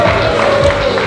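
A large live audience applauds a presenter at an evening quiz results event, with dense, steady clapping and crowd noise filling the short moment close and loud.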